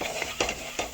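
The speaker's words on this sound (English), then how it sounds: "We are frying it since last 3 minutes." Gujiya, sweet Indian pastries, fry in hot oil with a soft, steady sizzle, broken by a few scraping stirs of a utensil in the pan.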